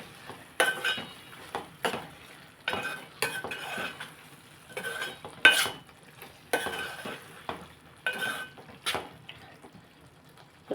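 Spoon repeatedly scraping and clinking through bottle gourd curry in a pan, a steady series of close, crisp metallic stirring strokes over a soft background sizzle, with no talking.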